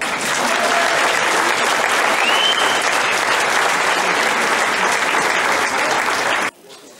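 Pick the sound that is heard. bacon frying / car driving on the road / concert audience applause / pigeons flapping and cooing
concert audience applause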